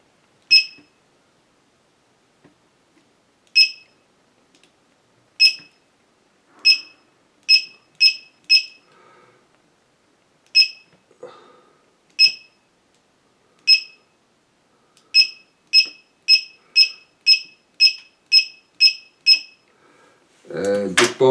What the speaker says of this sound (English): And the buzzer is on